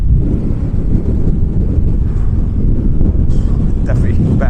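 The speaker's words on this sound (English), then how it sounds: "as I walk round, then the wind just takes my breath." Strong wind buffeting the microphone on the North Devon coast, a loud continuous low roar and rumble throughout with no other clear sounds.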